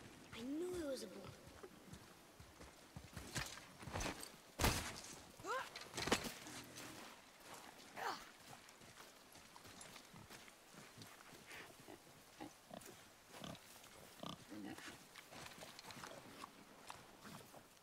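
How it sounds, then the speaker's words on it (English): Grunting and snorting of a wild boar in the action game God of War (2018), intermittent animal calls and rustling footsteps at moderate distance, with sparse game sounds and a voice speaking at times. "I knew it was a boar."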